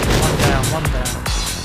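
Gunfire in the video game Project Reality, a rapid string of sharp shots over a dense battle din, with voices talking through it.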